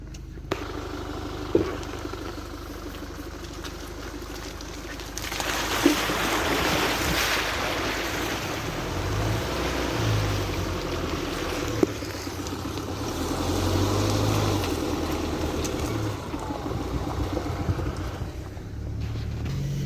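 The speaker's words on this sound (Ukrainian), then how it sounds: "їхати навпряму навпростець по таких от калюжах" A ZIL truck hauling diesel to a combine during harvest ploughs through puddles on a dirt road, a loud continuous rush of splashing water and wind buffeting over a low engine rumble.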